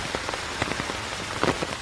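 Rain falls steadily on Pureungil Park in Dongmyeong-dong, a dense, even patter of drops with scattered louder splashes close by and no voices.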